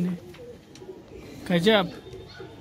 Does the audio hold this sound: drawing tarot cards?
no